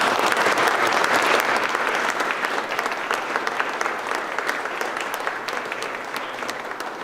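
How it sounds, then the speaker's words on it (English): Sustained audience applause at a Four Chaplains memorial ceremony, dense steady clapping from a sizable crowd in a hall, loud and even throughout before easing slightly toward the end. "Big round of applause."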